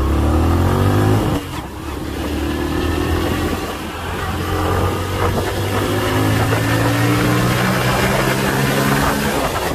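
Honda Wave 110 motorbike, a 2020 model with a performance-tuned engine, humming steadily on a test ride in heavy traffic, a brief dip in revs early on, then a smooth continuous drone with steady road noise.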